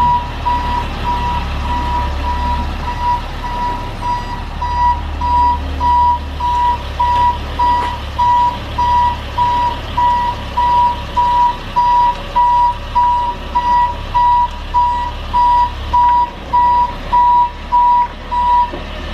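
A 10-ton gravel delivery truck from a decorative rock supplier backs up with a steady, loud reversing beeper pulsing in regular rhythm over the idling diesel engine.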